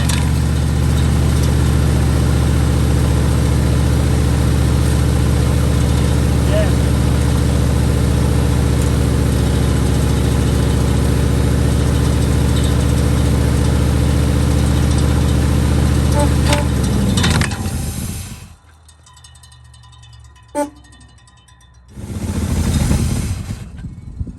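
A 1974 Chevy Monte Carlo engine, restarted after sitting for years, runs at a loud, steady idle with a deep low rumble. It cuts off abruptly, then catches again briefly near the end.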